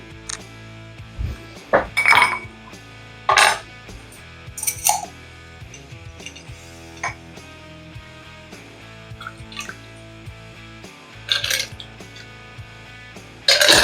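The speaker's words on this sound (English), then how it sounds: "Now we get a glass and a big ice cube and we strain it into the glass." An Old Fashioned cocktail strained into a glass over a single large ice cube, with scattered close glassy clinks and ice chinks at irregular intervals against a quiet bar background.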